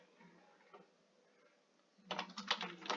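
Keystrokes on a computer keyboard while coding HTML in Visual Studio Code, faint scattered taps at first, then a quick, close burst of typing at the end.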